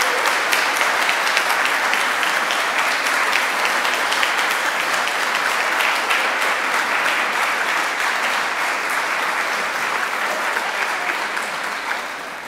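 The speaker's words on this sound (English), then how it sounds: "if we could just give them a round of applause" Round of applause at a parish meeting, a sustained, dense clapping from the gathered crowd that holds steady for about twelve seconds before tapering slightly.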